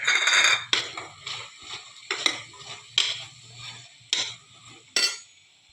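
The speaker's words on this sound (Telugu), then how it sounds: "మునక్కాడలు తీసుకున్నాం కదా, అవి వేసుకోవాలి. వేసుకొని బాగా కలుపుకోవాలి." Drumsticks are stirred into a curry masala in a metal pan, giving about six close, rhythmic scraping strokes of a utensil against the pan with a faint sizzle underneath.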